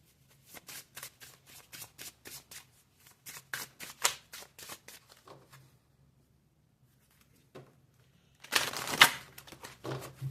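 Tarot cards are shuffled by hand in quick, crisp riffles, a steady run of close, dry flicks followed by a pause and a louder final burst of shuffling.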